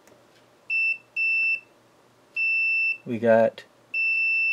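Steady high electronic beeps from a multimeter continuity test on the output pin of an Icom IC-260A radio, five clear tones of about a second or less in an irregular rhythm, with a man's brief speech between them.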